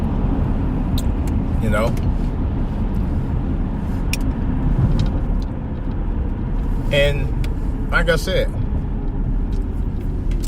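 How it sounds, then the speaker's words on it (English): Steady road traffic rumbles close by inside a car, with a constant low engine and road drone and brief higher squeals, while someone talks over it. "what is going on with this traffic today?"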